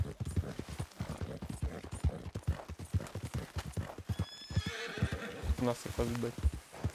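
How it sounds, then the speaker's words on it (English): Horse hooves clip-clop in Red Dead Redemption 2, a quick close rhythm of hoofbeats with a neigh, partly under someone speaking Portuguese. "Vou dar uma controladinha aqui no cavalo."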